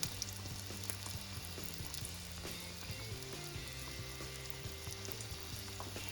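Homemade corn dogs frying in hot oil, a steady crackling sizzle with bubbling pops that holds evenly and close throughout, with no talk over it.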